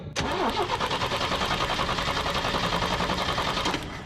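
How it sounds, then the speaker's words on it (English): A 1974 IH Scout engine cranks over steadily for about four seconds, a loud, close, fast rhythmic churn from the starter with no voices. "Sure is cranking better for some odd reason."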